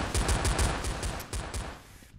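Rapid gunfire from a gold dual pistol in the shooter video game Blood Strike, a quick close burst of about a dozen sharp shots in uneven rhythm, tapering off at the end without speech.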